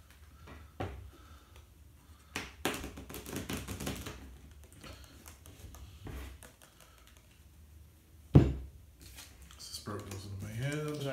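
A deck of playing cards being shuffled during a tabletop card game, with soft riffling and tapping rustles close by, mixed in with people talking around the table.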